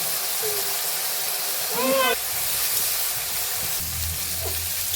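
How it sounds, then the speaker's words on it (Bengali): Eggplant pieces with green chillies, turmeric and salt fry in oil in a pan, giving an even, steady sizzle, while a brief voice sound briefly rises over it partway through. "বেগুন ভাজা আমার হয়ে গেছে।"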